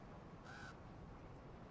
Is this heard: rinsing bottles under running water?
no